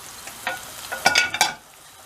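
Döner meat warming in oil in a pan gives a short, close sizzle with scraping stir strokes that swell midway, then fade out; no one speaks.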